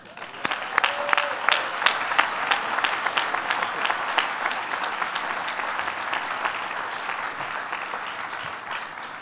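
Steady audience applause in a hall at a medical school class day ceremony, welcoming the keynote speaker, dense clapping sustained for several seconds at an even level.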